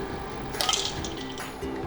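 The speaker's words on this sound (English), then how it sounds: "so I'm going to take them out into this ice water." Cooked mitarashi dango rice dumplings are dropped into a bowl of ice water, giving a brief splash and sloshing of liquid in a kitchen.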